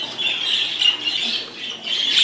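Budgerigars at a bird show giving a busy chatter of shrill squawks and chirps, several birds overlapping in a continuous, fluttering mix at moderate distance, without talk.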